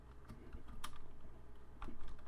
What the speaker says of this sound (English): I'm going to type in custom text